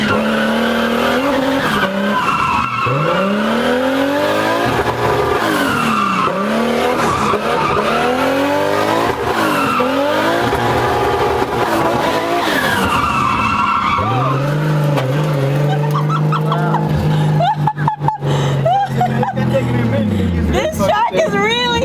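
A racing car's engine roars and revs while its tires squeal and skid through corners of a tight track in long, loud, sweeping bursts, with faint voices underneath.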